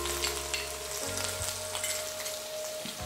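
Ginger garlic paste frying in a pan for chana masala, an even close sizzle with a low hum that shifts partway through, heard alone without speech.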